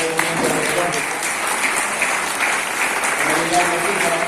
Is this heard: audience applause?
yes